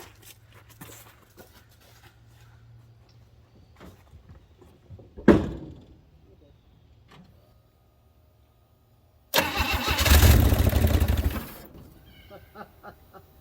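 A 1964 Chevrolet Bel Air engine sputters briefly as it tries to start: about two seconds of rough, loud combustion after a quiet stretch marked by a single thunk, then it dies back to near silence.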